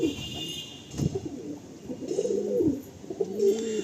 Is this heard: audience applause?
no